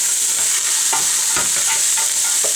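Carrots and other vegetables for turkey chili sizzle and fry in a pot, a steady loud hiss broken by a few soft stirring scrapes, with no voices.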